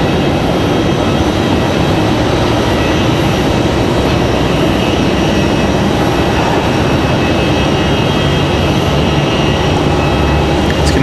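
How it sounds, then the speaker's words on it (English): An Endeavor Air CRJ-900LR regional jet, Delta Connection, lands at Raleigh-Durham International Airport with a loud, continuous broadband engine roar that holds steady and close for the whole stretch, with no voices. "Endeavor 5120, a Delta connection,"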